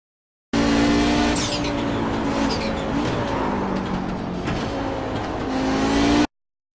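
Audi 90 GTO race car in iRacing at Mid-Ohio, its engine revving hard as it accelerates in second gear, a loud continuous roar rising in pitch with brief tire squeal, no voices over it.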